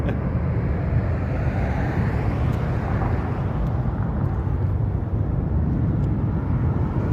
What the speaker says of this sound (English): private jet taking off